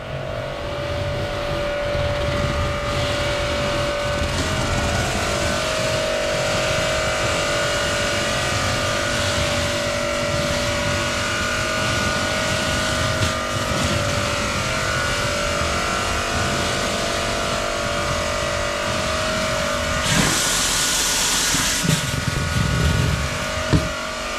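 A 3hp electric high-pressure washer running steadily, a sustained motor drone with a strong steady tone and a hissing spray, briefly louder near the end, no talk.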